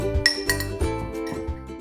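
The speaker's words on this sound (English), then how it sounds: "Use an everyday fork to stir that together." A fork stirs an egg into butter inside a mug, clinking sharply against the ceramic in a quick rhythm of about five taps, close and distinct, with no voices.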